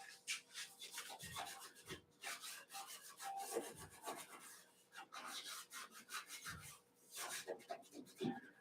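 A Scotch-Brite pad rubs back and forth over a surface in quick, raspy strokes, soft and close, repeating in uneven bursts with brief pauses between them.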